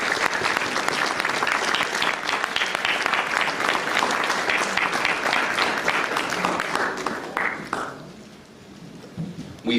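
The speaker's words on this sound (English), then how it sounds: "Let us give all of our panelists a rousing round of applause." A conference audience at a summit in Atlanta applauds its panelists with loud, steady, dense clapping lasting several seconds before tapering off to quiet.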